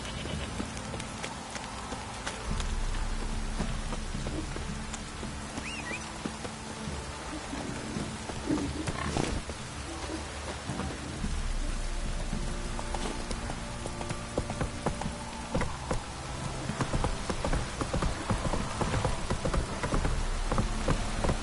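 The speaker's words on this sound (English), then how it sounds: "This downpour's a bastard, it is." Steady, heavy rain pours throughout in the video game Witcher 3: Wild Hunt, with occasional louder patters and hits breaking through the constant wash of noise.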